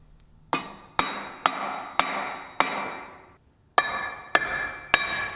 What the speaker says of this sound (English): hit the edges of it with a soft blow kind of hammer